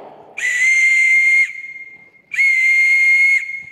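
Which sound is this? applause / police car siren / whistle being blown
whistle being blown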